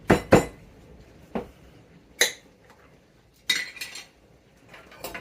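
A slotted spoon clinking against dishes while artichoke hearts are lifted out and drained, several sharp, separate clinks and knocks spaced apart, with quiet between them.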